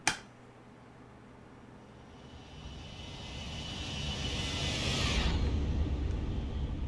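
A simulated Boeing 737 in X-Plane 11 makes a low pass: the engine roar starts faint, swells steadily into a loud whooshing peak, then the high hiss cuts away while a rumbling tail lingers.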